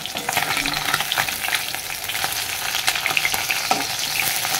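Bhola fish frying in a pan, a loud, dense, continuous sizzle with scattered pops and crackles throughout, close up and with no talking.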